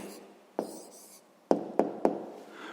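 A pen writes down the answer to a sixth-grade maths problem, with soft scratching and several sharp taps on paper, close and quiet.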